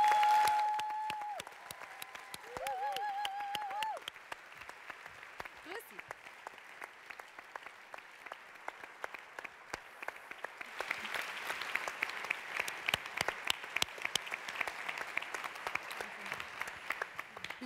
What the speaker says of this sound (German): Einen großen Applaus für die Erfinderin der Erdgespräche und die Chefin vom Neon Green Network, Angie Rattay